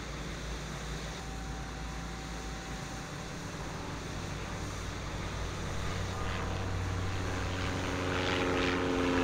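A propeller aircraft engine drones steadily in Airport Tower Simulator 2012, building slightly louder toward the end as the plane takes off, with no voices.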